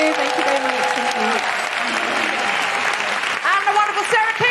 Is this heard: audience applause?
yes